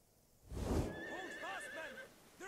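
Horses in a Total War: Attila battle neigh in several rising and falling whinnies over a low thudding gallop, after a heavy rumbling burst at the start.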